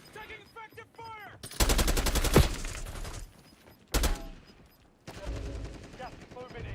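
Bursts of automatic gunfire in Warzone on the Verdansk map, a rapid sustained volley followed by a shorter burst and another stretch of shots, loud and close, with game voice callouts between them.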